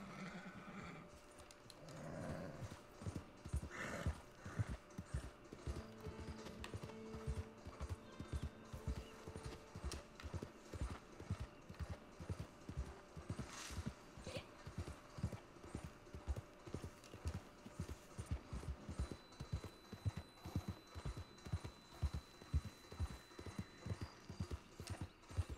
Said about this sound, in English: What's that fucking noise? Is that another horse?